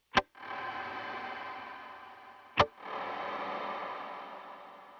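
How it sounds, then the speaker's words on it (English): Two sharp plucks run through a BigSky pedal's Cloud ambient reverb preset, each one swelling into a long, soft, washy tail that hangs and slowly fades until the next note. "The second of the bigger ambient reverbs is the cloud."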